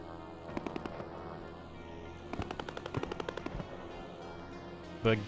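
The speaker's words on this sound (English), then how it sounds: "The gun doesn't quite sound meaty enough, does it?" Bursts of rapid automatic gunfire from a heavy fighter's gun in a video game, two volleys of quick repeated shots at moderate loudness, followed by a single sharper impact at the end.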